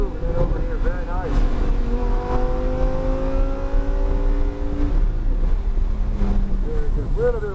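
A Lamborghini Huracan EVO accelerates on the Palm Beach International Speedway track, its engine droning loud and steady with rising and falling pitch sweeps, heard from inside the car under wind roar while a voice gives instructions.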